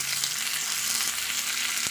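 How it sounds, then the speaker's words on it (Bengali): Chopped onions fry in hot mustard oil in a kadai for a Bengali bharta, giving a loud, constant hissing sizzle with fine crackles throughout and no talking. "পেঁয়াজগুলো একটু ভাজা ভাজা হোক।"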